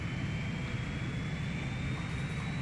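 A fighter airplane roars in the flight combat video game Ace Combat 3: Electrosphere, its engine a steady, loud, continuous drone with a thin high whine running through it.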